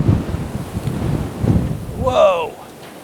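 Cold wind buffets a microphone outdoors during a film photography shoot, low rumbling gusts swelling and easing, with a short voiced exclamation rising near the end.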